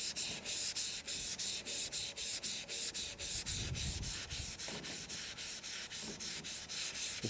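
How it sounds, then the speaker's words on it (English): Lightly sanding a stripped Yamaha 2009 R6 fuel tank before primer: rhythmic back-and-forth rasping strokes, close and steady, repeating about three times a second with no voices. "all I'm going to do is just lightly sand over it"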